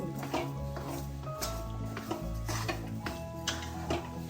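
Rava kesari with sugar is stirred in a pan with a spoon, producing rhythmic scraping and light metallic clinks against the pan, close but fairly quiet, with no talking.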